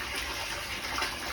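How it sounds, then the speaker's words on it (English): Steady, continuous gushing bubble noise from an aquarium air pump aerating the water of a fish spawning tank, close and fairly loud with no pauses. "there's plenty of air going in with that bubbling in there"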